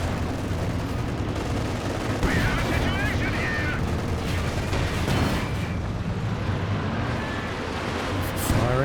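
An artillery barrage in Company of Heroes 2, with Werfer rocket fire among it, thuds and crackles as a steady stream of shots and blasts at moderate distance, layered under the battle's continuous low rumble.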